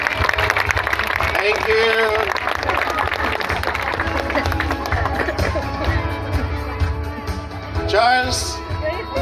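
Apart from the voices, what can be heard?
applause for the newlyweds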